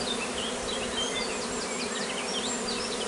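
Swarming honeybees fanning at a hive entrance produce a steady, dense buzzing drone, loud and continuous, with individual bees whining past close by.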